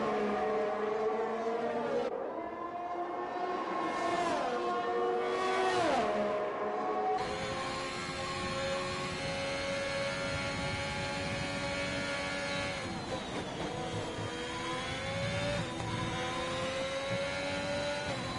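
An F1 2021 race car in the video game howls through its gears on a hot lap at Monza, Italy, a loud sustained engine whine that rises and drops with shifts and braking, with no talk over it.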